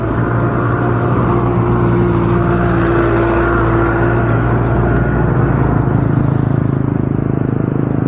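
Cars passing on a busy road, heard from a bicycle on a quick ride, a loud continuous rumble of traffic with a steady low hum and rushing swells as vehicles go by, no voices.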